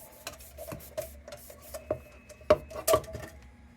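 A brush scrubs a salt-based cleaner onto a tarnished Dietz brass tubular lantern, giving soft irregular rasping strokes with a few sharper scraping taps, close and fairly quiet.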